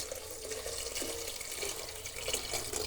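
Two and a half glasses of water are poured into a pressure cooker pot holding rice and spices, producing a quiet, continuous splashing pour up close with no voices.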